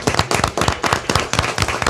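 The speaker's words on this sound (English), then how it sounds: "Round of applause." A crowd at a Gettysburg Bike Week gathering breaks into a loud round of applause, dense overlapping claps and bursts from many hands, close and continuous throughout.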